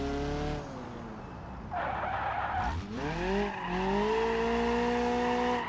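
Drifting car in the BeamNG driving game, a 180, with steady engine drone and rising, sliding tire squeal that swells mid-run and keeps screeching alongside the revving engine, loud and close.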